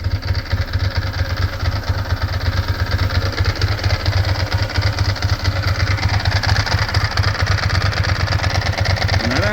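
Close, steady idle from a 2002 Ducati ST4s motorcycle engine, a low, throbbing beat with a slight knocking edge that continues evenly and without speech for the whole stretch.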